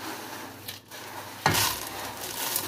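Dough being stirred in a warm pot just off the gas stove, a soft scraping and slapping with a sharp clack against the pot partway through, followed by a steady rubbing churn, close and fairly quiet.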